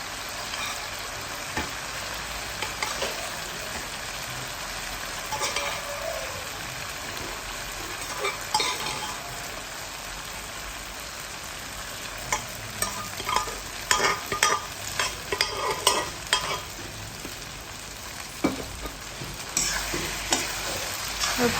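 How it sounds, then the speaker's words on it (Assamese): Paneer fried rice being stirred in a pan, steady scraping and sizzling with clusters of sharper clinks and scrapes as the rice is mixed, close and alone without talk. "আৰু ভালদৰে মিলাই ল'ম ৰাইচখিনি।"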